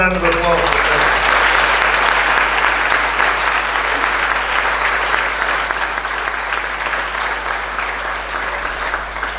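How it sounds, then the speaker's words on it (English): An audience at a youth brass band's 50th anniversary concert gives a sustained round of applause, loud and dense from the start and easing slightly toward the end, a voice briefly heard at the outset. "One more round of applause."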